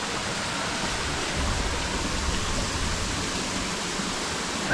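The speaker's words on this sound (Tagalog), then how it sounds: "Dahil patuloy po yung pag-ulan dito sa atin." Continuous heavy rain in a rural Philippine farmyard, a dense steady hiss that stays loud and unbroken throughout with no voices.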